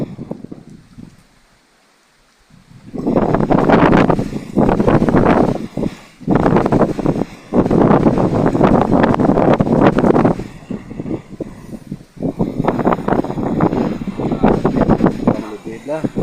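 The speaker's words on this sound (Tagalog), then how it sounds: "Magalaw na ng mga tripping kay kusog sa hangin." Typhoon landfall storm with strong wind and rain: loud, close broadband roaring and hissing gusts with rain noise, surging in several long bursts after a brief lull, with no clear voices.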